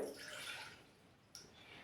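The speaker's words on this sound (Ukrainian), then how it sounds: "Заливаємо воду у каструлю" Water poured into a saucepan for a simple chemistry experiment at home, a faint steady splashing trickle with a small knock near the end.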